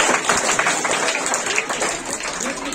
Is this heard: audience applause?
yes